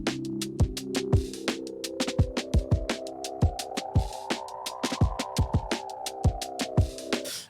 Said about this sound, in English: So when you start playing chords through things like Little Alter Boy, you get some crazy results.